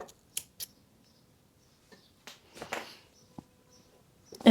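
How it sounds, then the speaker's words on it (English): Scissors snip through yarn in a few short, sharp cuts while knitting an elf hat on a Sentro knitting machine, close and clear in a quiet room with soft handling noises between the snips. "Now cut both yarn"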